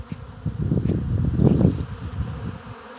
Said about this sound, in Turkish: Arı oğul vermiş bak.